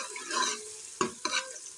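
Ginger garlic paste frying in a pan gives a soft, continuous sizzle, broken by two sharp scraping clicks as it is stirred; no voices.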